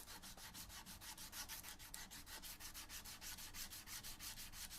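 Rapid, regular sanding strokes scrape along guitar X-braces, a quiet rhythmic rasp repeating several times a second without pause or talk.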